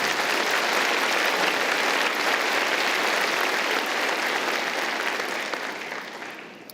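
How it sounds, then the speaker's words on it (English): An audience at a University of Waterloo engineering graduation ceremony breaks into sustained applause, a thick, even wash of many hands clapping that holds steady before gradually thinning and fading near the end. "So a big round of applause to everybody that is here"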